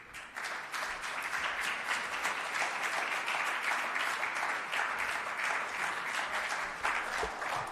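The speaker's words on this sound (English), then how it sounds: "Can we keep the applause going, please, for all three members?" Sustained applause fills a hall at a Jamaican government launch of medicinal cannabis permit programmes, many hands clapping in a dense, even roar for nearly eight seconds without speech.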